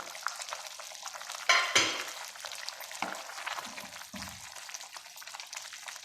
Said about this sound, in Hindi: اب ہم اس کو اچھے سے بھون لیں گے تیز آنچ کر کے